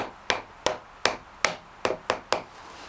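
Hammer striking a part on an Aprilia Caponord 1000 motorcycle: seven sharp, loud metallic blows in a fairly regular rhythm, each with a brief ringing tail, close and alone.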